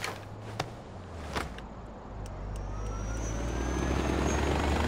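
An airplane flying in Far Cry 4, its engine drone building steadily and growing louder over several seconds, with a few brief sharp game sounds early on.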